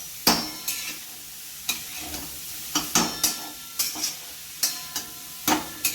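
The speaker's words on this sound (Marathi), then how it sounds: "त्याला सतत असा हलवत राहायचं आहे खालवर करत राहायचं आहे" Grated carrot halwa cooks in ghee while a spoon repeatedly scrapes and stirs the pan, producing a series of close, irregular scraping strokes over a soft, quiet sizzle.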